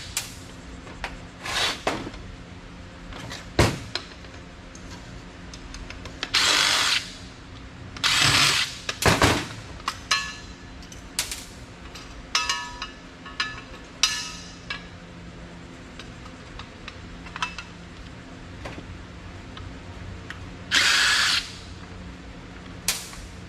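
Power drill backing small screws out of the metal plates on a large power rack being scrapped, heard as short bursts of whirring with clanks and rattles of metal parts between them.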